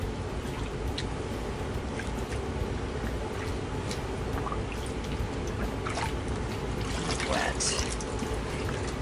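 Running water pours and splashes as a delicate wedding dress is hand washed in a basin, a continuous close trickle with scattered drips and sloshes.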